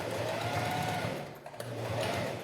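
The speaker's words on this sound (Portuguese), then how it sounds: "Vou costurar aqui." A sewing machine stitches quilted denim for a zippered pouch, its fast, steady whir close and continuous, dipping briefly mid-run before resuming, with no talking.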